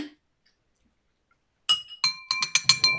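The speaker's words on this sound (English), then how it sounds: "I'm cleaning the glass." A glass is cleaned with a spoon during a coffee cupping, giving a quick series of bright, ringing clinks after a stretch of silence, close and crisp.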